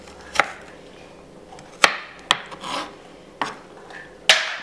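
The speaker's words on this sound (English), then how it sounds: "So I just chopped it up a little bit." A knife chops frozen raspberries and strawberries on a board in sharp, separate cuts, about six crisp thunks spaced irregularly over a few seconds, close and clear with no voices.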